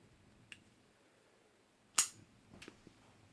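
Black Tusk Crux CRX-BK folding knife blade snapping open with one sharp, loud click, with a few fainter clicks and taps before and after in an otherwise quiet room.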